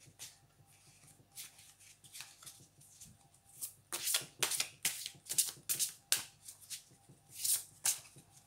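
Tarot cards being shuffled and riffled by hand, a run of crisp papery flutters that grow louder and more frequent partway through, with short pauses between bursts and no talk.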